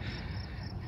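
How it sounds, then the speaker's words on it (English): Crickets chirp steadily in the background on a daytime cemetery grounds, a continuous high pulsing trill layered over low traffic hum. "I don't know if you can hear the crickets in the background and"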